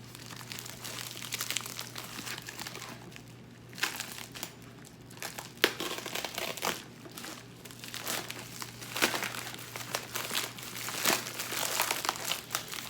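Bubble wrap mailer packaging crinkles and crackles close by as it is cut and pulled open, irregular bursts of plastic rustling with brief louder crunches.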